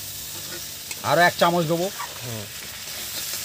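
Gram flour being stirred into bitter gourd and potato frying in a pan, a steady soft sizzle with scraping stirs running throughout while someone talks over it.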